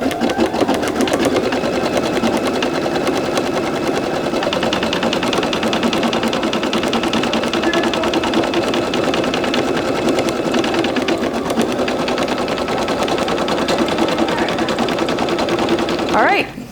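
A Brother NQ1600E embroidery machine stitches steadily and loudly at close range, a continuous rapid mechanical chatter that runs without pause for the whole stretch and stops abruptly at the end.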